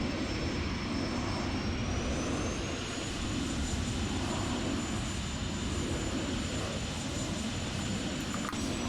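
Simulated jet aircraft engine in X-Plane 11 during a flight-sim airshow, a steady loud droning roar with a high thin whine holding throughout, no talk.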